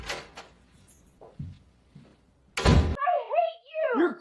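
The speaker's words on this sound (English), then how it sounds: "Then I closed the door, tired of their drama." A door thuds shut once partway through, a short solid knock, framed by quiet shuffling before and a voice speaking emotionally right after.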